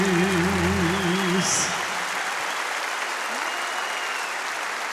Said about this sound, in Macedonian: Дайте аплауз.